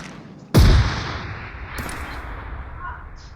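A single sharp, loud gunshot rings out in the BGMI battle royale game, followed by a low, steady in-game ambience with no further shots.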